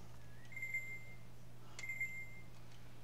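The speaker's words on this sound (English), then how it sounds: "The parental alarm here is going off" A parental alarm sounding twice, each time a thin electronic tone that rises and then holds steady for about a second, quiet over a low constant hum, with no talk.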